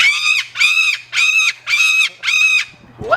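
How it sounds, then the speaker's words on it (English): A large bird, near parrots at an animal attraction, gives five loud, harsh, honking squawks in a steady, evenly spaced rhythm close by, with a faint low hum beneath. "What's wrong with that bird?"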